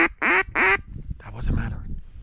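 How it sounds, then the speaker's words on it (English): A mallard duck gives two loud, nasal quacks in quick succession close by, followed by softer low rustling and murmuring sounds. "That was a mallard."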